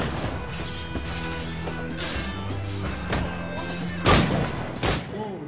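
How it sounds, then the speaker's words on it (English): A huge explosion in an Assassin's Creed video game: a sharp crashing blast bursts out late, then a second thud follows, over a continuous bed of game music and ambience. "It's just a huge explosion we got."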